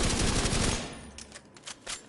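A light machine gun fires in a video game, a dense, rapid, loud burst that stops after under a second, followed by a few scattered quieter shots and impacts.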